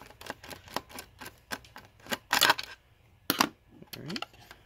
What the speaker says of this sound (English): what you want to do is remove the screws from the bottom